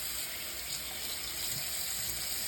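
Tap water runs steadily into a sink to soak a shaving brush, a soft, even hiss of flowing water without pause, fairly quiet and alone.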